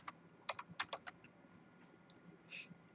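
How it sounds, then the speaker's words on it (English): Fingers tap out a short burst of quick keystrokes on a computer keyboard, then a few scattered clicks and a final double tap, faint and close in a quiet room. "I'm going to type this in my addressing table"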